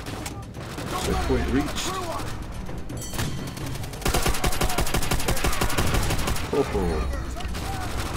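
Rapid, loud machine-gun fire and bursts of shots in Call of Duty: World at War, with dense runs of gunfire broken by short lulls and a voice talking briefly among the shots.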